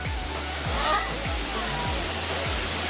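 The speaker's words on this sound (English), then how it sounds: "Look at these waterfalls." A waterfall at a tourist spot in Cancun, Mexico roars as a steady wash of broadband rushing water, close and loud throughout, with faint low thumps underneath.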